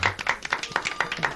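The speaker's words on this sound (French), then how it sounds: "Elle s'applaudit bien fort." Small audience at a French radio-show evening of photo-novel readings clapping, a quick rhythmic patter of hands with regular close claps, brief and moderately loud, no talk over it.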